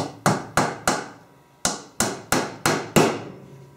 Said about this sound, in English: You're going to take a 1 inch or an 1 1/4 inch nail, put it right in the center